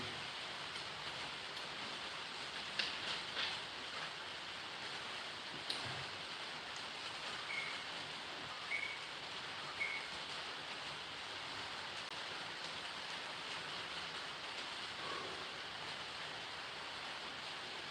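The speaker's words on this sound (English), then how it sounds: "It's raining here." Rain falls outdoors as a steady, soft hiss of broadband patter, with a few faint knocks and small sounds scattered through it and no talking.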